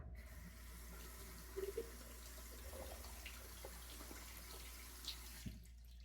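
Water from a tap runs steadily while a shaving brush with a G5C knot is wetted over a bowl of shaving soap. The flow is soft and continuous, with a few small splashes and drips, and no talk is heard.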